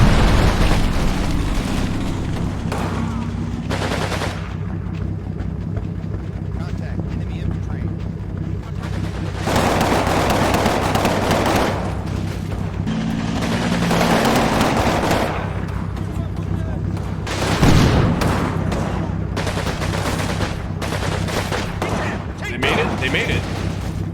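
Battle in the Combat Mission Normandy video game: repeated bursts of gunfire and heavy explosions, including a grenade blast, rolling over a loud steady rumble, with someone talking at times in between.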